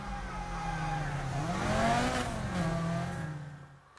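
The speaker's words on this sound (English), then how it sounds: "I like pulling up and revving my engine real loud" A car engine in the Need for Speed Heat racing game revs up loudly, rising in pitch to a peak and then falling away, close and prominent with no talk.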